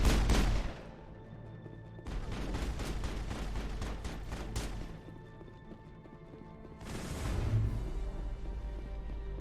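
Gunfire in the video game Mass Effect during the Noveria mission, heard as bursts of shots and impacts in two dense spells over a steady low game backdrop, with a quieter stretch between them.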